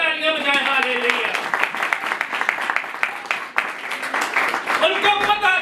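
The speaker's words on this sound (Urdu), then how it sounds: "زوردار تالیاں بجائیں، ہاللیلویا۔" A church congregation claps loudly during a sermon, a dense patter of many hands running throughout, heard beneath a preacher's voice and singing.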